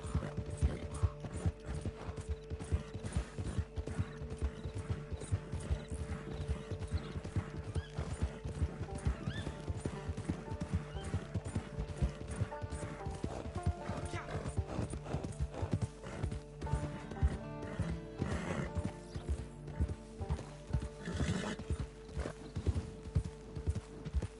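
A horse trots steadily in Red Dead Redemption 2 Online, hooves clopping in an even rhythm, with occasional whinnies and rattling, creaking tack; close and continuous for a long stretch.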